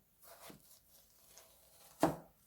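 A knife cuts a peeled old cucumber (nogak) in half: a faint scrape, then one sharp, close chop against the board.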